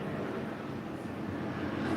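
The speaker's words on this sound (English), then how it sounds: "Oh, there goes a plane." A low, steady roar of an airplane passing overhead on the LaGuardia flight path, a broad rumble that holds at a constant level throughout, with no talking.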